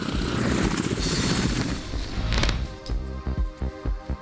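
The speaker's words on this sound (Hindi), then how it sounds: "रूस ने KA-52 लड़ाकू हेलीकॉप्टर से हमलों का वीडियो जारी किया" A Russian Ka-52 attack helicopter roars loud and close, its broad rotor and engine noise giving way to a series of heavy rhythmic thumps and blasts.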